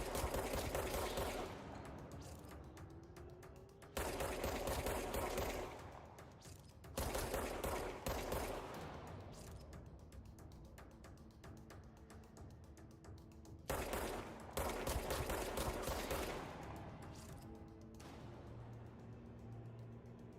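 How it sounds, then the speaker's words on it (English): Rapid volleys of gunfire from another shooter in the Control video game, several loud bursts separated by short pauses over a low background hum. "Someone else is shooting."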